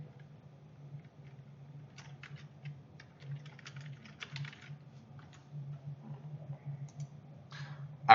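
Soft, quick keystrokes on a computer keyboard as a quiz name is typed, faint clicks in short bursts over a low steady hum.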